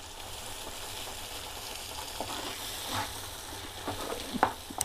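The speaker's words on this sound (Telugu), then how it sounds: "ఇది కొంచెం సేపు బాగా ఫ్రై కావాలండి" Dal curry tempering with turmeric frying in a pan, a soft steady sizzle with occasional louder stirring scrapes and pops toward the end, close and alone.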